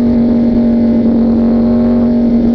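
A Yamaha R1 motorcycle engine running loud and close, a steady, strong droning tone held throughout with no rise or fall, no talking.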